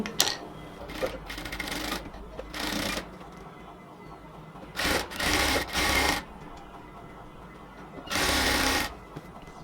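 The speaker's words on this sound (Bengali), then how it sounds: "স্লিভসটাকে এবার মেজারমেন্ট অনুযায়ী সেলাই করে নেব" A sewing machine stitches the sleeves of a cotton kurti in several short bursts of a few seconds each, with quiet pauses of fabric handling between them, close and fairly loud.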